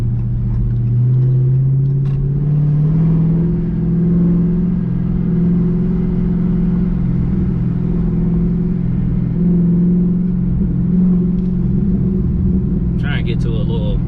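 A 2020 Dodge Charger Hellcat Widebody's supercharged engine drones and rises in revs inside the car, loud and steady with a rising whine under it, while someone talks over it.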